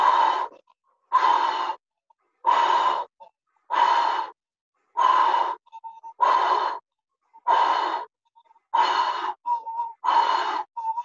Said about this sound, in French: Respirez plus fort.